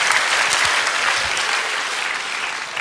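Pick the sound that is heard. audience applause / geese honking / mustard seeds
audience applause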